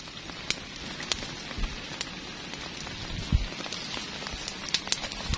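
Rain drips and patters steadily onto a leaky tent shelter in a forest, with scattered louder drops standing out against a soft, continuous hiss.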